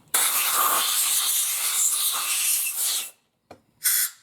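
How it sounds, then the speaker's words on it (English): Cleaner sprays from an aerosol can into a Yamaha Virago XV1100 carburetor in one long, close, steady hiss lasting about three seconds, followed by two short spurts after a brief silence. "Then we just want to spray all the cruddies out of here."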